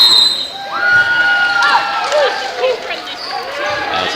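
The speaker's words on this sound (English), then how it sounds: "Crowd filing in." Packed high school basketball bleachers with a crowd filing in, a busy murmur of many voices and scattered shouts, with sneaker squeaks and whistles in the background during the game.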